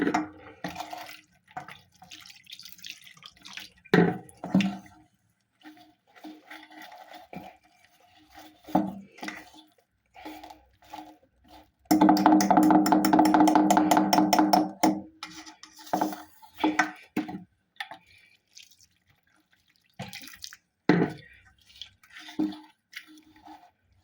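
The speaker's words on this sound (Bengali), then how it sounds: "এবার উষুম গরম জল দিয়ে এটা মাখতে থাকবো" Flour dough is worked by hand with warm water and salt, giving scattered soft wet squelches and slaps, with one dense burst of rapid rhythmic beating in the middle, close and alone.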